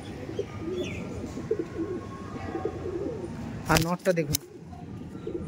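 Madrasi pigeons coo softly in a pen while someone talks steadily over them, followed by a brief burst of wing flapping or scuffling near the end.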